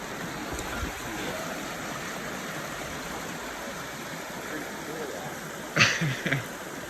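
A mountain stream in the Cascade volcano backcountry rushes steadily, a continuous broad hiss with a brief louder clatter near the end.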